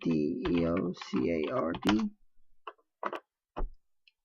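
Someone speaks briefly, then types on a computer keyboard in a few sparse, crisp key taps that are close and fairly quiet, with short pauses between the presses.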